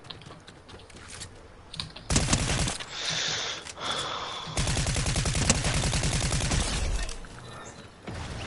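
Rapid bursts of gunfire from a video game, sustained volleys of fast repeated shots with brief pauses between them, loud and close, mixed with what sounds like keyboard clatter.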